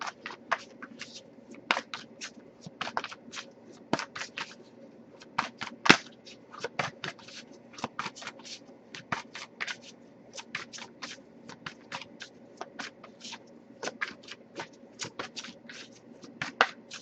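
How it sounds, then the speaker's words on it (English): Tarot cards are shuffled by hand in quick, irregular riffles and flicks, close and soft, repeating in bursts throughout with a faint room hum beneath and no talking. "I'll give it a few more shuffles"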